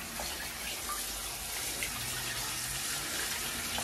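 Tap water runs steadily in a home kitchen while tripe soup is being made, giving a continuous, fairly close hiss and splash that stays even throughout, with no voices.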